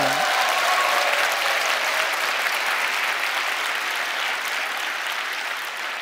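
A large church congregation at a prayer gathering breaks into sustained applause, a dense, even roar of many hands clapping that fills the space and fades slightly toward the end.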